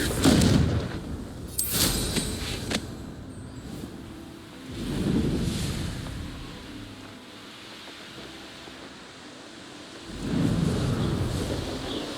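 The Confringo fire spell goes off in Hogwarts Legacy as a few deep, booming blasts, each rumbling out and fading, with quieter stretches between them.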